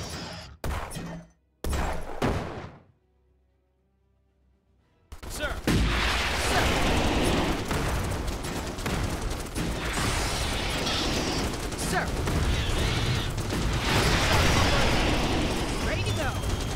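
Gunfire against swarming bugs in the strategy game Starship Troopers: Terran Command, a few sharp bursts at first, then after a brief lull a dense, sustained barrage of shots and explosions, with game voices speaking over it.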